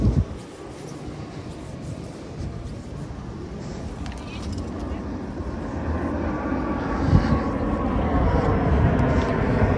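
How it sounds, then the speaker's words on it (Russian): A passenger airplane coming in to land near the airport at Adler, Sochi, its steady low engine rumble swelling slightly as it nears, heard over seaside beach ambience. "самолет идет на посадочку"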